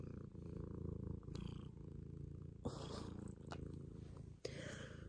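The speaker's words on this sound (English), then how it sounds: "He wanted attention, so we're giving him the attention he deserves. Here's the purring." A pet cat purrs close up, a continuous low rhythmic rumble that holds steady throughout, with a few soft handling bumps and rustles.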